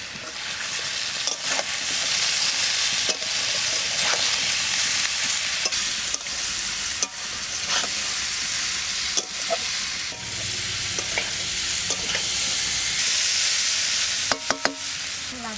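Taro pieces fry in a pan with cumin seeds, salt and turmeric, giving a loud, steady sizzle throughout with occasional scrapes and clatters of stirring, no voices.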